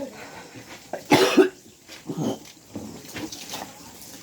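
A person coughs in a few short, harsh bursts, one strong cough followed by weaker ones, close and fairly quiet, with some breathy sounds between them.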